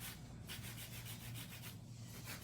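A nail drill bit files and shapes an acrylic nail, giving a faint, steady grinding rub with a soft pulsing texture and no talk.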